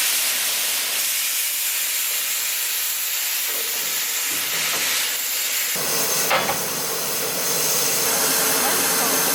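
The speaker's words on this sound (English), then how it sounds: "they move the steam train, fill it up with water and spin it around." A steam locomotive hisses steadily at a wilderness railway station in Tasmania, a loud broad rush of escaping steam that changes texture partway through, with faint voices underneath.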